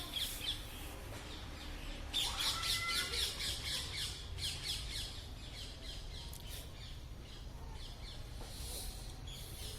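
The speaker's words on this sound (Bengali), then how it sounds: "সুন্দর সুন্দর লাভবার্ডগুলো দেখতে পাচ্ছেন গড়িয়া পাখির হাটে" Lovebirds at the Garia bird market give a dense, continuous chorus of shrill squawks and chirps, with bursts of louder calling over a busy, noisy background.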